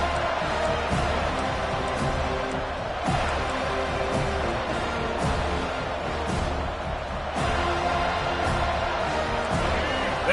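A stadium crowd in the College Football 25 video game cheers and roars continuously, loud and dense, with swelling bursts throughout and a commentator's voice talking over the noise.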